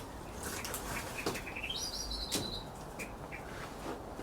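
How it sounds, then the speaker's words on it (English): Bird inside a garden greenhouse among tomatoes and cucumbers, chirping in a few quick, faint tweets and a short trill over low background rustle, with no voices. "we have a bird in here"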